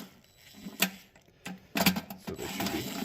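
Impact wrench on the cylinder heads of a Pontiac Firebird, spinning nuts off their studs in short bursts: a sharp rattle near 0.8 s, another at 1.5 s, then a longer hammering run from about 1.8 s to the end.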